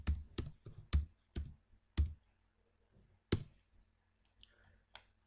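A computer keyboard being typed on in short irregular bursts of crisp clicks, close and fairly loud against a quiet background, with pauses between the keystrokes.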